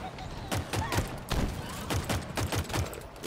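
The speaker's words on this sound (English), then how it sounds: "We'll beat this guy with the rocket launcher." A rocket launcher fires in a Halo Infinite firefight, with a rapid series of booming blasts and thuds repeating through a dense, continuous wash of battle noise.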